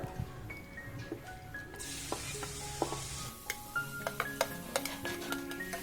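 Chopped ginger and garlic fry in oil for chilli chicken, soft sizzling under repeated scrapes and clinks of a spoon stirring against the pan, fairly quiet and close, without talk.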